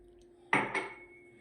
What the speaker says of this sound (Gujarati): હવે હલાવો એને તાવીટાથી